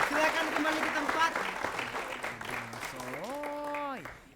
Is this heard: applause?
yes